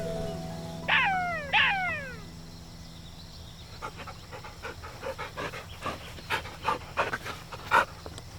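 Two rising, wavering howl-like calls sound at the start, followed by a run of quick, breathy yelps and sharp cries that grow louder.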